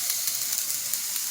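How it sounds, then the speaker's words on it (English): A hot, empty pot gives off a soft, steady sizzle and hiss before cooking starts, faint and close, with a few light crackles and no voices. "if you want to make sure that your pot is ready and it's going to be nice and sizzling"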